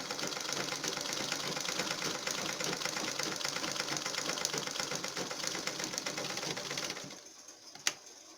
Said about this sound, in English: I'm going to sew straight on the midpoint and stop here.